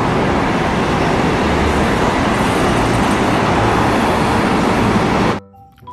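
A double-decker bus sound effect used with a toy bus: a loud, steady roar of road traffic and engine noise that cuts off abruptly near the end.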